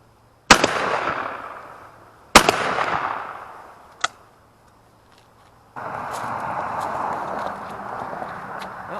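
A 20 gauge shotgun fires Black Cloud shells at a pattern target: two loud blasts with long decaying tails, a sharper, smaller report, then a steady wash of background noise.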